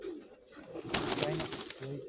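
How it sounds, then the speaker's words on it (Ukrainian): A blue white-tailed pigeon hen coos softly at dusk, a couple of faint low rolling calls in a quiet outdoor setting, with a brief rustling burst in between. "Така ця голубка."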